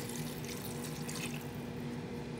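Spring water pours from a bottle into a pot of vegan peanut stew (Kare-Kare), giving a steady, close, even splashing and trickling that continues through the clip without talk.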